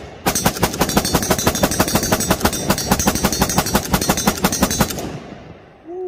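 A WBP 556 Mini Jack pistol fires 5.56 ammunition in a fast, steady string of loud, close shots over about five seconds, then stops.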